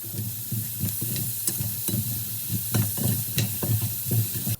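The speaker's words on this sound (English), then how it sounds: "I put chopped onions and carrots in here and sauteed those until they were softened" Chopped onions and carrots sizzle in olive oil in a skillet, a steady frying hiss broken by repeated soft scraping stirs.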